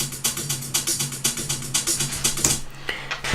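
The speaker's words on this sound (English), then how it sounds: "And so I put in some street shakers and some street hi-hats." Street shakers and hi-hats loop together for a tribal Latin house groove, a steady rapid pattern of bright, crisp hits with a low tonal hum underneath, briefly thinning out near the end.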